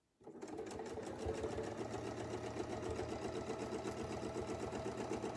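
A sewing machine runs steadily, stitching down a quilt seam along the seam allowance, with a continuous close whirring motor and rapid needle clatter.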